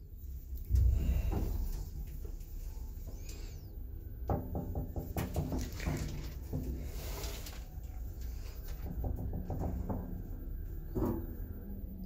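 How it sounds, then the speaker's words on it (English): A 2015 Stannah lift at a cinema goes down, with low mechanical rumbling, a heavy thump near the start and scattered clicks and rattles from the moving car throughout. "Lift going down."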